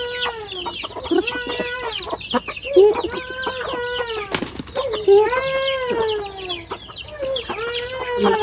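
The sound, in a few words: ducks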